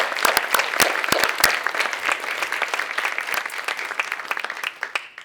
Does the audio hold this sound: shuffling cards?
no